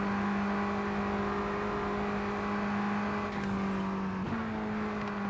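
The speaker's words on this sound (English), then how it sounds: "We're going to drive supercars outside the circuit." A Ferrari supercar engine in a racing game, a steady sustained hum that holds its pitch, then drops and shifts sharply near the end as if changing gear, with no talking.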